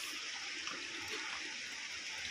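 Water flows steadily down through rocks on a trekking trail at Wahkhen, Meghalaya, making a continuous rushing, splashing hiss that stays even and close with no voices over it.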